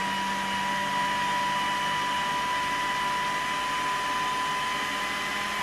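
A food processor whirs steadily throughout, mixing ingredients for a homemade sushi dish, a continuous close, even motor drone with no talk over it.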